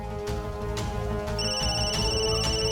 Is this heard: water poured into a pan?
no